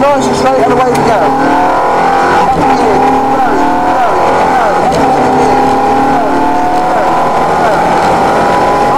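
A Ferrari F430 engine accelerates loudly on a race track, climbing through the gears in rising sweeps from the cockpit, while a driver talks over the roar.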